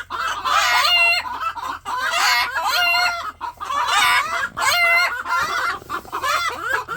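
Several chickens close by, loud squawking crows and clucks repeating in bursts, with overlapping calls and brief gaps between them.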